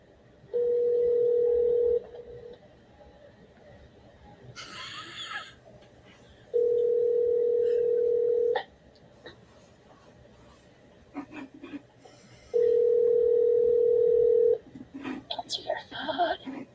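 Three long ringback tones sound while a phone call is placed, each about two seconds with gaps between, and soft whispering and speech in the pauses.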